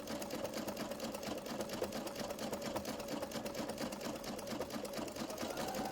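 A sewing machine runs steadily at a slow, even pace, zigzag stitching through a jelly roll rug, its needle producing a continuous rapid chatter close to the listener, with no talk.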